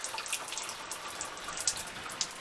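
Water runs from a transportable shower unit with an LP-gas-bottle hot water supply, a soft, steady splashing spray with small droplet spatters, fairly faint and uninterrupted, no one speaking.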